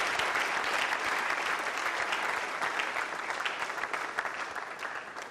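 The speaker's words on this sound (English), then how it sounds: "Please give yourselves a round of applause" Steady, dense applause from a large audience continues evenly throughout, with no voices standing out.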